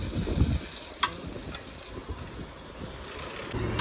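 Butter sizzling steadily on a hot griddle as bread is roasted on both sides, a close, continuous frying hiss with occasional scraping clicks.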